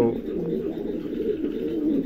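A pair of exhibition homer pigeons coos softly and steadily at close range, a continuous low murmuring with faint background noise.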